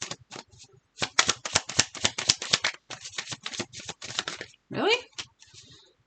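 Quick riffling and soft slapping of tarot cards being shuffled, several bursts close to the mic, with a person talking between them.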